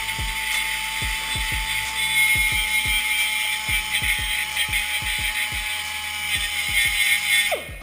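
A rotary tool with a carbide burr ports a Cobalt SS intake manifold, giving a steady, close, high-pitched whine broken by many sharp clicks and grinding bursts, with no talking.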